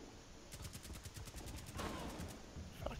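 Gunfire in Rainbow Six Siege during a Hereford Base team deathmatch, a quick automatic burst of evenly spaced shots followed by a louder crack, faint overall.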